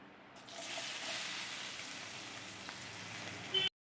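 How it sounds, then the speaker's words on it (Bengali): Onions fry in a pan with a steady bright sizzle that rises quickly after a brief start, holds evenly close by, and cuts off abruptly at the end. "কিছুটা পেঁয়াজ ভেজে নিচ্ছি।"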